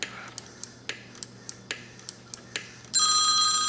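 A telephone starts ringing in a motorcycle repair workshop, a bright, sustained electronic tone cutting in near the end after a run of sharp, regular clicks and taps.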